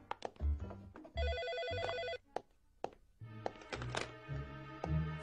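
A telephone bell rings indoors in two distinct bursts with several thunks and soft clatter around it, near and fairly clear, no talk.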